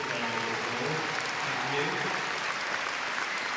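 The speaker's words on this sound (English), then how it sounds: "So a nice round of applause for all these" A crowd at Crufts 2016 dog show gundog group judging claps steadily, a dense, even patter of applause with faint voices mixed underneath.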